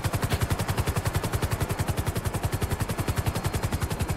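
Rapid automatic gunfire in a video game, a fast, even stream of sharp shots repeating about ten times a second, loud and continuous with no pause and no talking.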